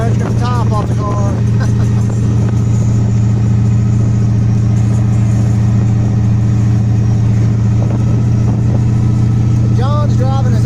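An old Chevrolet Corvette convertible drives with its top off near Rockford, Indiana, its steady mid-pitched engine drone and wind noise running loud and continuous throughout while people talk over it.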